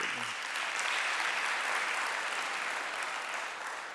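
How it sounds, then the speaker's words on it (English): Seminar audience applause at a fraud awareness event, a sustained, even wash of clapping from a room of people, fairly soft and distant throughout. "before we give the next speaker the round of applause"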